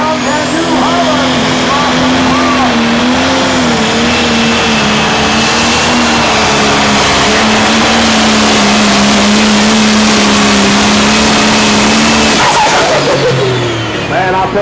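A New Holland T8 Tomcat pulling tractor roars at full power during a tractor pull. The engine drone is loud and sustained with a wavering pitch, then drops sharply near the end. An announcer talks over it.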